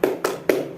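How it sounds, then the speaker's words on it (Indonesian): A classroom group does a rhythmic cheer clap, three sharp, close claps in quick succession, evenly spaced and ringing briefly in the room. "Tepuk semangat."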